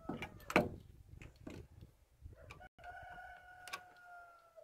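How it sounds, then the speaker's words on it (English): A rooster crows in the daytime, a faint call rising once near the start, followed by quieter clucking and rustling and a thin sustained tone near the end. "Cock-a-doodle-doo and stuff."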